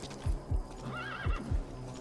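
A horse in Metal Gear Solid V neighs once in a rising and falling whinny between a few heavy, evenly spaced hoofbeats, all close and clear with no talking.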